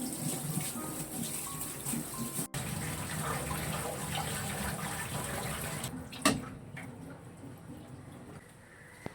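Tap water runs steadily for several seconds while something is washed clean by hand in a home kitchen, a continuous broad splashing wash that ends with a brief louder splash before easing off.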